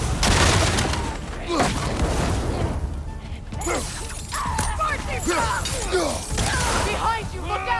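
Gunfire and shattering impacts in the God of War Ragnarok battle in snowy Midgard, a loud continuous barrage of pops, bursts and crashes with whooshes, under shouted in-game voices.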